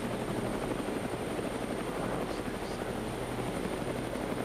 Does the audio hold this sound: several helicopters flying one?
yes